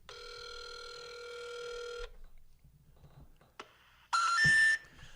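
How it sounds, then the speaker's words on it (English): A steady electronic ring tone sounds for two seconds, followed by quiet line noise, a click, and a brief loud burst of tones. "Call it and put it on speakerphone."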